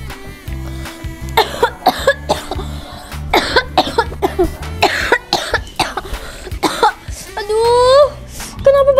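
Someone coughs repeatedly in short harsh bursts, loud and close, mixed with groans and sighing speech between fits, over a faint background music bed.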